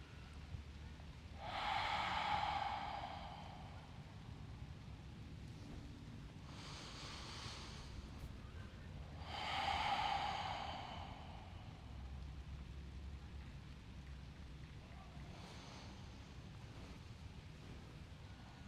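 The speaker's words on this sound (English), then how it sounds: "3 breaths here" Slow, deep yoga breaths during a gentle low-back relief session, two long airy exhales swelling and fading clearly about eight seconds apart, with a fainter third toward the end, in a quiet room.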